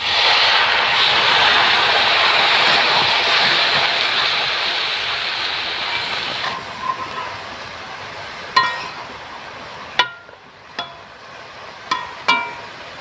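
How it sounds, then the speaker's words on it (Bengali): Water pours onto taro stalks for cooking in a continuous rushing splash lasting several seconds, then a few sharp utensil clinks follow in the quiet afterward. "এখন আমি কচুতে সামান্য পরিমাণ পানি দেব।"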